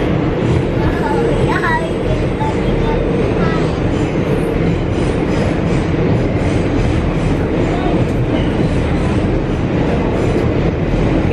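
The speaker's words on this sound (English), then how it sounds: "This is Sammy's first experience on a train." A passenger train rolling along the rails, giving a steady, loud rumble with rhythmic clatter from the wheels that lasts throughout, as heard from inside the car, with people talking over it.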